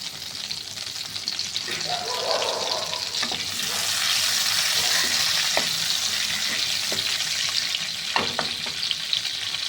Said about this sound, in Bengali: এবার তেলটা গরম হয়ে গেছে। এর মধ্যে এই দুটো এলাচ আর এই তেজপাতা ফোড়নে দিলাম।